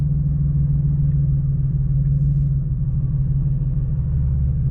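A car with an exhaust leak and a pipe dragging along the road rolls on with a loud, continuous low rumble and steady droning, with no voices over it.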